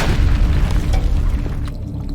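A grenade explodes in the retro first-person shooter HROT, a loud deep boom with a rumbling tail that fades over two seconds, no voices.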